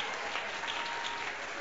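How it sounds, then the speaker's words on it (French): Church congregation applauding during a French-language sermon, a steady wash of clapping at moderate distance with no voices standing out over it. "Est-ce que tu peux acclamer le Seigneur pour ça?"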